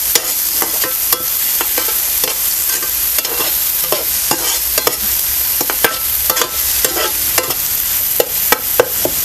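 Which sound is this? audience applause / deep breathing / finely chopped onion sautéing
finely chopped onion sautéing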